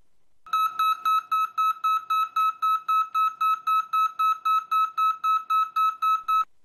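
A truck trailer's air pressure warning alarm beeps on its own in a steady, evenly spaced series of about twenty sharp, high electronic tones, clear and close.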